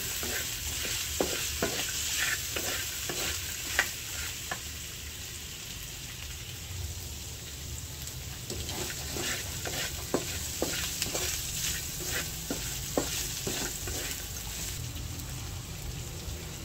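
Mung beans being stirred with pork in a pan, a steady sizzle broken by repeated scraping strokes of a spoon against the pan, close and moderately loud.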